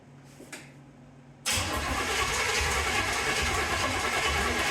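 A 1931 Ford Model A coupe engine, after a brief quiet moment, suddenly catches and roars into a loud, rough continuous run that holds steady to the end.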